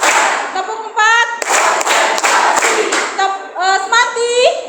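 Sharp hand claps ring out in bursts during a classroom ice-breaking counting game, mixed in with a teacher's and children's voices talking and chanting.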